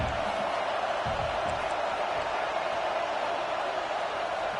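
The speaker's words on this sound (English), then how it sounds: "This crowd bringing the energy and noise early." A dense, steady roar from a college football stadium crowd at Penn State versus Clemson fills the air continuously, loud and unbroken, with no clear talk on top.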